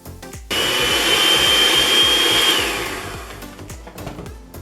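An electric mixer beats meringue with sugar toward stiff, glossy peaks, a loud, steady whirring hum that runs close for about two seconds and then fades to a quieter tail.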